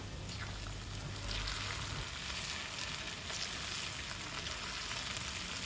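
Steady, dense crackling sizzle of wontons frying in hot oil, continuous and close, with no voices.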